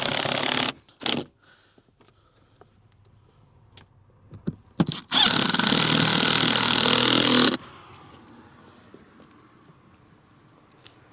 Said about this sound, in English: It's a noisy dewalt with a flat battery.